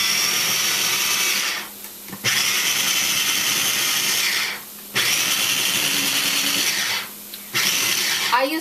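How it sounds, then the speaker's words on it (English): Food processor whirring through baby spinach with water, three sustained loud bursts of motor grinding separated by short pauses. "Just put it in there on a food processor, any kind of food processor, and process it."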